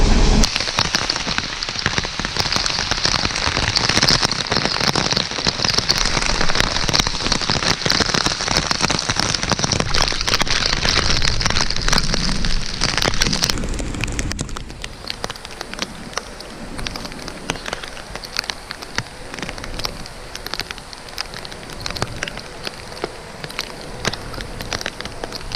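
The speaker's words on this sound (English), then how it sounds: "It's starting to rain." Rain falls on a lake during a bass fishing tournament at Nickajack, Tennessee, a steady dense patter on surfaces that holds evenly and then softens partway through into a lighter, sparser spatter.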